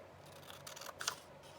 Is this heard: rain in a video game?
no